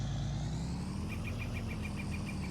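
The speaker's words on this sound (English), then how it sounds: "Truck was spinning tires there for a minute." A logging truck hauling a load of wood up a hill in Farming Simulator 19 gives a steady, loud low engine rumble, with a faint rhythmic chirping pulsing through the second half.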